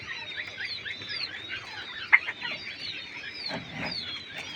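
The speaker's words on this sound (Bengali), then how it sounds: "কোয়েল পাখি" A flock of king quail keeps up a steady chatter of high, thin chirps and short calls, overlapping constantly, with one sharper call standing out briefly near the middle.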